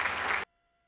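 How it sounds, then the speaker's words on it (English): Students applaud their teacher in a classroom with a short, dense burst of clapping that stops abruptly after about half a second, leaving silence. "Applause for me, please."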